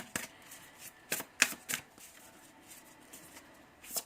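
Tarot cards being shuffled during a reading, several short riffling bursts close by but quiet, separated by pauses.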